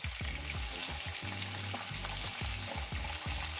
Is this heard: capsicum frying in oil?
yes